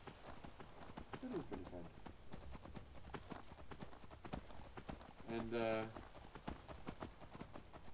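Rapid, steady hoofbeats of a horse galloping in Skyrim VR, a fast rhythmic clip-clop running through the whole stretch, with someone talking over it and a brief whinny-like tone near the end.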